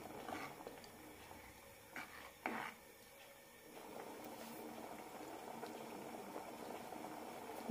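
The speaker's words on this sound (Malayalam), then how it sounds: "രണ്ട് മിനിറ്റ് നന്നായി തിളപ്പിക്കാം." Horse gram curry boiling in a pot, a faint bubbling simmer with a few soft clinks and stirring movements early on, then a steady low gurgle to the end.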